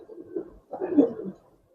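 A blue pigeon in a loft of Giribaz colouring pigeons gives two soft, low cooing phrases in close succession, the second fuller and longer, with a brief pause between them.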